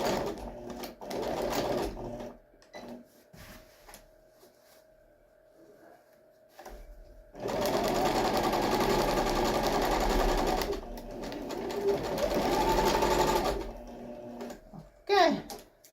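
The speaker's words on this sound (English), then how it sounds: "I am just gonna go ahead and start stitching right here." A sewing machine stitches fabric in a home bedroom decor project, with short stop-start bursts of whirring, then a long steady run of stitching and another shorter run. Quiet talk is heard between the stitching.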